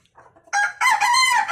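A farm rooster gives one loud, close crow that swells after a short lead-in of soft clucking and holds strong to the end, with no talking.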